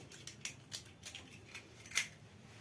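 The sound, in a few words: cracking two eggs for sponge cake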